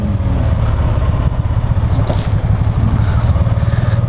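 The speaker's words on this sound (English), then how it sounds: "If I ignore it, it'll downshift by itself." A Can-Am Spyder RT three-wheeled roadster engine rumbles loudly and steadily at close range, with a brief shift in tone midway as the automatic transmission downshifts on its own.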